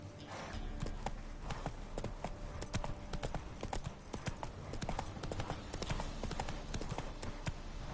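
Horse hooves gallop in The Witcher 3 video game, a fast, steady clip-clop rhythm that runs throughout at moderate level, close and unbroken.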